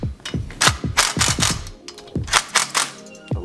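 Repeated sharp metallic ratcheting clicks from a wrench tightening bolts on the sump cover of a Honda GX630 engine, close and clear, in quick bursts with brief pauses.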